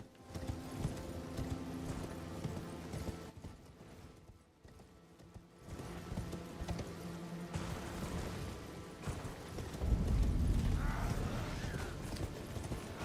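Hoofbeats of a ridden mount, a horse or yak in a video game, clip-clop steadily at close range with a brief lull midway, mixed with game music and ambient effects, no talking.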